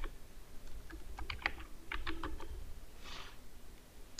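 Typing on a Mac computer keyboard: a quick run of soft, close key clicks in irregular bursts, with a short pause before a final brief cluster.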